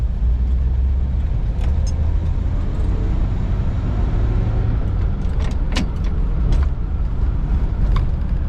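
A 1941 Cadillac Series 62 convertible rolls along a road, its engine and tire rumble forming a steady low wash of driving noise close by, with a few faint clicks and rattles over the top.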